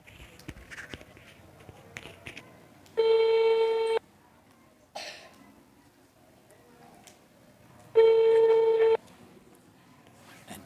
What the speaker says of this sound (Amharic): እንዴ ይሄን ሁላ ስልክ አለማንሳት